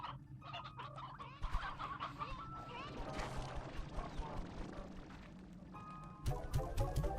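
Hens in the video game Slime Rancher 2, a busy flock clucking and squawking in overlapping bursts, with clattering knocks mixed in, fairly close.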